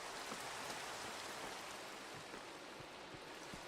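Rain falling in the Minecraft video game, a steady, soft hiss of dense rainfall with faint scattered drop patters, even and unbroken throughout.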